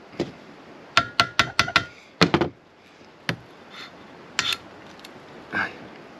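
Sharp hammer taps on a part of a Webasto Air Top 5000 heater aboard a Lagoon 380 catamaran: a quick run of five close knocks, a double hit, then a few scattered softer taps in a quiet space.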